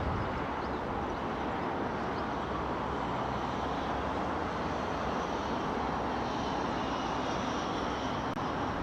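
Air Baltic A220 airliner at Heathrow Airport, a continuous broad jet roar that holds steady and fairly loud throughout, with no talk.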